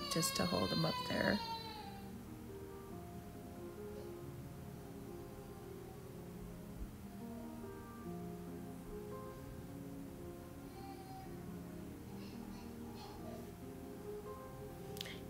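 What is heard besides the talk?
grandbaby crying in the background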